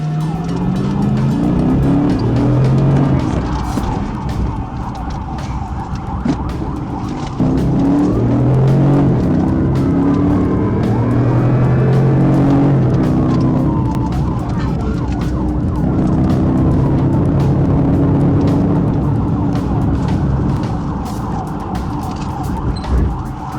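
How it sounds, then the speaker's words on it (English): Car engine revving and accelerating hard during a police pursuit, with a wailing emergency siren sweeping loud and close throughout, the siren pitch rising and falling over sustained road and engine roar. "The vehicle accelerated and turned right onto Rodney Parham, initiating the pursuit."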